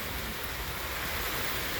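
Steady summer rain falling outdoors, a soft, even hiss of drops hitting surfaces that holds at the same level without breaks or voices.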